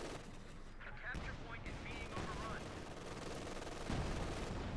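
Sustained gunfire in the game Company of Heroes 2, a machine gun bunker firing amid a dense battle mix, with a continuous rattle of shots and explosions layered over a busy background.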